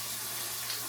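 A tap runs water steadily as food is placed into it, a brief, even hiss of flowing water with no voices.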